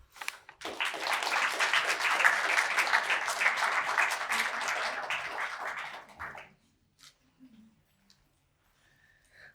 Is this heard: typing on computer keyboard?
no